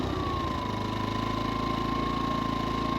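A Harbor Freight Predator 2000 generator engine runs steadily at close range with an even, throbbing hum and a tone that settles slightly lower early on. No voices are present.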